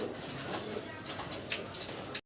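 Pigeons kept for sale coo continuously nearby, a soft layered murmur with a few louder calls, before the sound cuts off abruptly.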